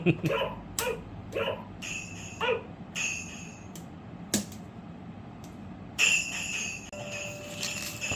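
A small dog yaps repeatedly in quick bursts, then lets out thin, high whines and whimpers toward the end, close by.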